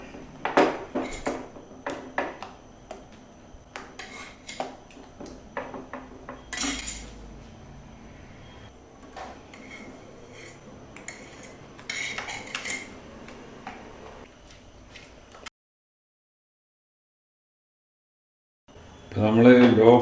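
Cream cheese and cream being mixed in a pot over a low flame, heard as irregular clinks and scrapes of a spoon against metal, then a silent gap and a louder clatter near the end.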